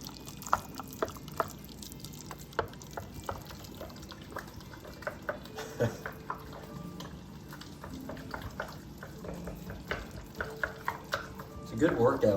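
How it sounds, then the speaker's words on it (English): Eggs gently whisked in a bowl while preparing lasagna at home, light irregular clinks and stirring taps over a low kitchen background, growing a little busier at the end. "Just break up your eggs. Just blend it gently."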